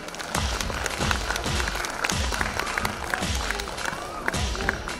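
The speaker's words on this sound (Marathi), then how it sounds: "जोरजोरात टाळ्या वाजवायच्या आहेत" An audience at a school annual function claps in dense, sustained applause with some rhythmic, uneven hand claps, close and lively for the whole stretch.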